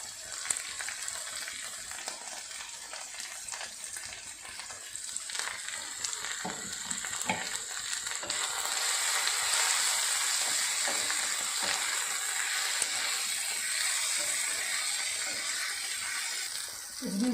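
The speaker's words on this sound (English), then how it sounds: "It's been frying for 5 minutes." Ivy gourd frying in a pan with turmeric and salt, a steady close sizzle that swells louder and fuller midway and keeps crackling without pause, with faint stirring scrapes and no talking.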